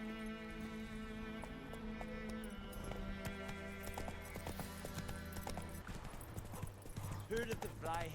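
Horse hooves clip-clop steadily in The Witcher 3 video game, a continuous trotting rhythm heard alone with no talking, set against sustained in-game music.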